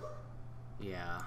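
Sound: dog barking in the background

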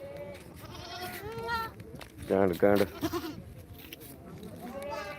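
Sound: goats bleating at goat market

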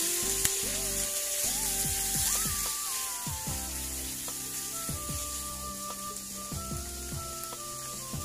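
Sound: chicken frying in a little oil

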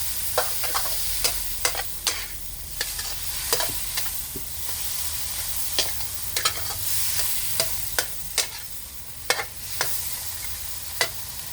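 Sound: stir-frying pork with sugar in a pan

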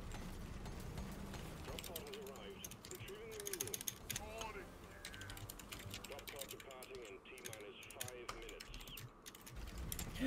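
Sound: typing on a computer keyboard

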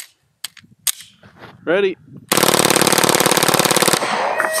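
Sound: full auto Glock 19C firing 9mm rounds at bulletproof glass

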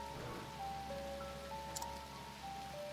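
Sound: rain in the video game Octopath Traveler

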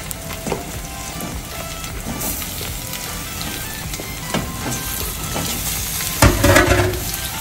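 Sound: chicken frying in pan with onions for Sindhi biryani

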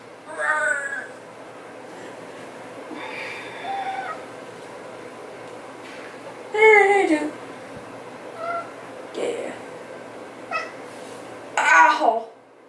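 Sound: cat meowing

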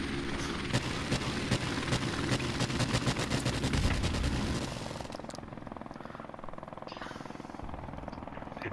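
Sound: helicopter and gunfire from a video game

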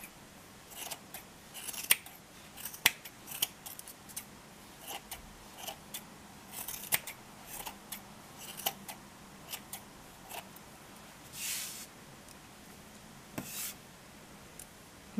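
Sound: scissors cutting yarn for a pom pom

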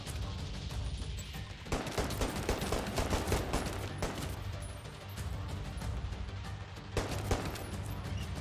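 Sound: gunfire in a video game

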